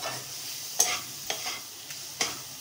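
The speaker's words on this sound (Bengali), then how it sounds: "গ্যাসটা কমিয়ে নিয়েছি যেন মশলাটা খুব বেশি পুড়ে না যায়, কিন্তু ভালো করে মশলাটা ভাজা হবে।" Spice masala fries in a pan over a lowered gas flame with no water added, for a soybean pulao: a steady soft sizzle broken by a few sharp scrapes and clicks of stirring.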